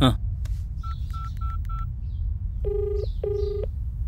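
A phone number is keyed in as a rapid run of short touch-tone beeps, followed by two longer ringback tones, heard alone over faint room hum in a Telugu film scene.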